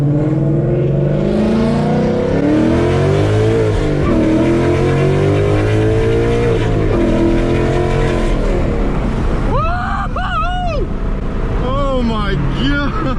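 A loud, raspy car engine with a ghost cam tune roars and revs hard, its pitch climbing and falling, then sharp quick blips of the throttle near the end.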